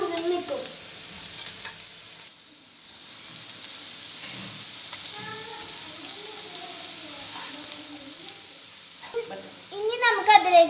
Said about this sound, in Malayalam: മല്ലി നന്നായി മുരിക്കണം.